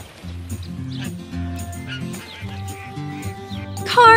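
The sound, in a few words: ducks quacking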